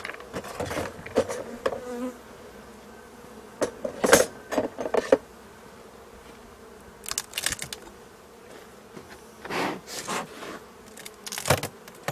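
Bees buzzing around the entrance of a small nucleus hive, a soft continuous hum broken by several louder close buzzes as individual insects fly near, alongside intermittent handling clicks and rustles.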